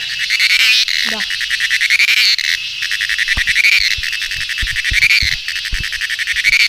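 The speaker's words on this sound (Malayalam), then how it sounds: "ഈ കാടുള്ള ഏരിയയിലാണ് ചീവീടുകൾ ഭയങ്കരമായിട്ട് കരയാറുള്ളത്" Loud, dense cicada chirring in a forest pulses steadily in a shrill, rhythmic drone, with a voice speaking now and then underneath.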